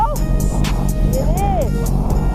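A Yamaha R1 motorcycle under way, with a steady low engine rumble and wind rush running throughout and a rising and falling engine whine near the middle, while a voice talks over it.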